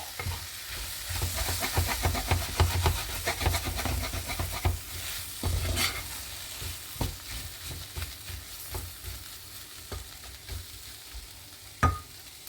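A spoon scrapes and knocks through hot, spicy okra curry simmering in a pot, giving a soft sizzle under a string of irregular stirring clatters, with a few sharper knocks against the pot.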